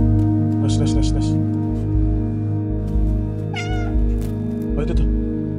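A cat meows several times in the video game Stray, in short bursts against a steady game soundtrack, with a player talking nearby.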